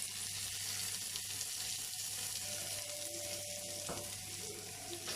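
Onion and curry leaves sizzling in hot oil for a baby potato fry, a continuous faint hiss heard alone with a brief clatter near the end.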